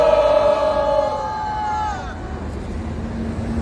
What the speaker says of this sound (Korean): 우리 모두 힘차게 격려의 함성 와를